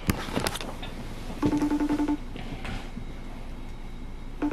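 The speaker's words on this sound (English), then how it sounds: "I need to FaceTime Margo because Margo's gonna like juicy." A FaceTime video call rings out on a phone, a loud close burst of repeated short electronic pulses that stops and then starts again at the end, with a few clicks and handling noises around it.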